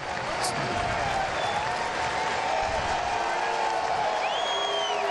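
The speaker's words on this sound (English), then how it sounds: "every FC fan just cheering him off the field right now" FC Cincinnati fans at a home match against Atlanta United 2 applaud and cheer an injured player off the field, a steady wash of clapping and crowd noise that fills the stadium at full volume throughout.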